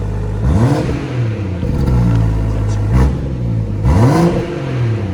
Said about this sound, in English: It gives you both exhausts, gives you a bit of more of a burbly noise, especially on the change downs